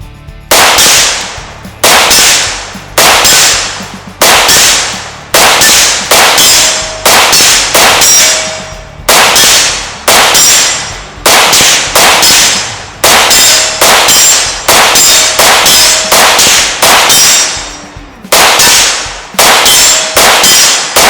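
A 7.62x39 Rifle Dynamics AK with some 40,000 rounds through it fires steady repeated shots at 100 yards, each crack followed by the loud metallic ring of H.I.T.S steel targets struck downrange, about two dozen impacts in a fairly even rhythm.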